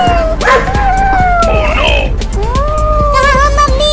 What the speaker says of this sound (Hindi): मुझे इस कुत्ते से बचाओ मम्मी।